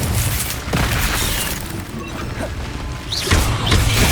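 Incendio fire spell cast in Hogwarts Legacy, a loud booming whoosh and crackle amid ongoing combat rumble and clanking effects, with a heavier burst near the end.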